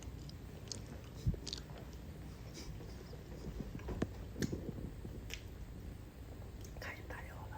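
Someone chews home-cooked food close up with soft, wet smacking and occasional bites, under a quiet hushed background with faint clicks.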